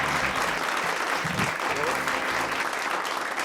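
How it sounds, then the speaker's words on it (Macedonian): An audience applauding a guest on a Macedonian TV show: dense, sustained clapping from a crowd filling the whole stretch at an even level, with a voice briefly heard over it. "Аплауз за Мешевски."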